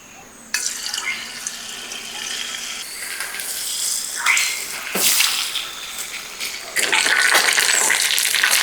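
Marinated chicken for a Japan chicken gravy drops into hot oil in a pan and sets off a loud, abrupt hissing sizzle that surges again as more pieces go in, continuing without talk.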